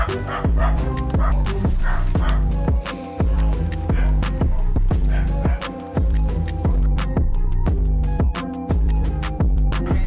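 Repeated dog barks and yips ring out loudly in quick succession, several dogs overlapping with no pause throughout.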